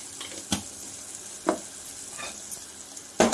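Homemade masala and dhania-jeera powder fry in a pan with a steady low sizzle, broken by a few soft scraping stirs and a louder clatter at the end, close and without talk.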